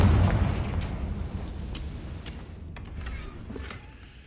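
The Confringo explosion spell in Hogwarts Legacy on PS5, a heavy boom at the start that decays into a long rumbling tail, followed by several sharp cracks and pops of debris.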